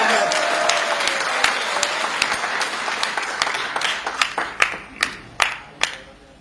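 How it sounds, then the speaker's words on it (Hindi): An audience bursts into hearty applause after a folk song, a dense wash of clapping that thins toward the end into a few loud, separate hand claps near the microphone. "जोरदार तालियां एक बार।"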